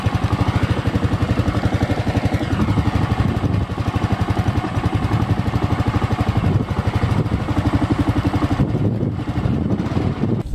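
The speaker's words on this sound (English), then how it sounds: "The exhaust sounds pretty good. It sounds very much like a motorcycle instead of a scooter." A Honda Big Ruckus scooter idles close to the microphone, its exhaust giving a steady, fast, even pulsing throb that sounds more like a motorcycle than a scooter, loud and unbroken throughout.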